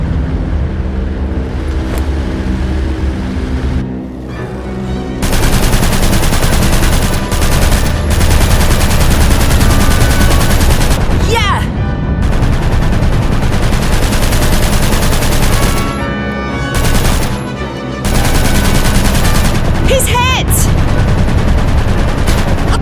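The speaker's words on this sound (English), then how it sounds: "Start shooting back then." Aircraft turret guns in the Aviators game rattle in long, loud bursts of rapid fire. The bursts run almost continuously, broken by brief pauses, over a heavy drone of engines and battle.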